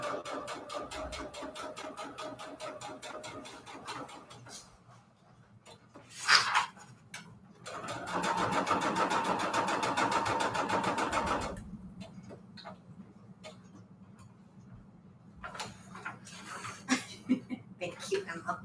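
A sewing machine runs a straight stitch while making junk journals, its rapid needle chatter coming in bursts with a longer steady run in the middle, close and moderately loud, with some talking mixed in.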